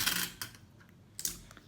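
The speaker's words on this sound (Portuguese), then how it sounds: "Agora eu vou passar durex" Adhesive tape being pulled and pressed onto PET plastic bottles for a children's toy in an art class, two brief crackly tearing bursts close to the microphone with a quiet gap between.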